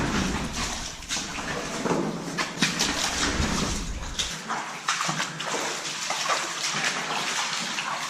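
Water splashing underfoot as someone wades through a water passage in Sullivan Cave, Indiana, with irregular sloshing steps and sploshes, close and continuous for several seconds without talk.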